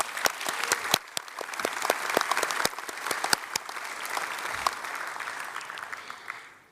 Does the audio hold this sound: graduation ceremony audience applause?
yes